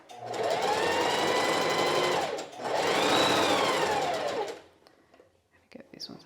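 A sewing machine stitches a gathering in two sustained runs of close, loud, steady whirring with a brief pause between them, then stops and leaves quiet handling sounds.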